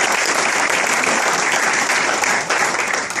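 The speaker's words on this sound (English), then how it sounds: "I'd really love to honor them and give them a round of applause" An audience at an award ceremony applauds continuously, a dense wash of many hands clapping with no gaps, steady and fairly loud throughout.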